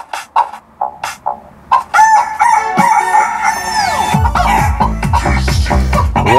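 Chicken techno music blends rooster crowing and rhythmic clucking into a beat: a run of short clucks opens, then a long loud crow, followed by a pulsing electronic bassline under repeated chicken sounds.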